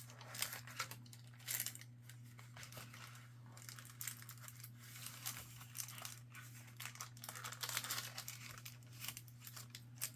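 Paper being folded and creased for a handmade mini journal, with soft crinkling and rustling bursts that come and go close by over a low steady hum, and no talking.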